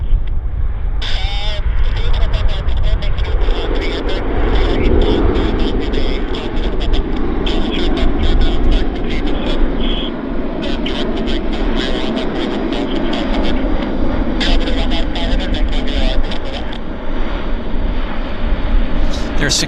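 Airbus A380 airliner on the ground at Vancouver Airport, a broad steady engine roar and rumble filling the whole stretch with bursts of wind and handling noise on top, and talk running over it.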